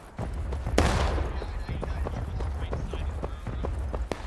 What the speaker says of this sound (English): They can hear us shooting at them.